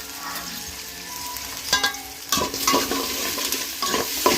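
Onions and three green chilies sizzle and fry in a pan, broken up by a few louder stirring scrapes partway through, close and steady with no talking.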